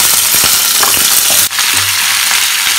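Vegetables with ginger and hing frying for aarhar dal in a hot pan, a loud close steady sizzle with stirring scrapes and a brief dip midway, no talking.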